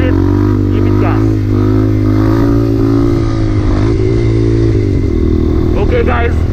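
A dirt bike's engine drones loud and close as the clutch is launched for a wheelie, holding a steady, heavy tone with a few clattering surges, while someone talks over it.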